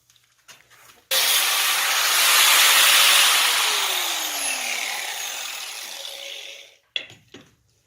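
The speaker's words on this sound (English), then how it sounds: "So let's get our angle grinder and go ahead and cut this." An angle grinder cuts through solid round steel stock in one loud, steady burst of roughly six seconds, abrasive hiss and whine holding throughout, with a few clanks of metal handling before and after.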